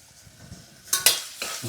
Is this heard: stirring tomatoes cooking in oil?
yes